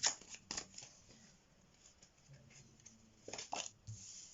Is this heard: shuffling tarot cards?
yes